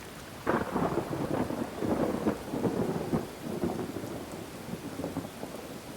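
Rain and rolling thunder in the fantasy video game Thronebreaker: The Witcher Tales, steady rainfall pattering throughout beneath deep, rumbling thunder that swells and fades, with no voices.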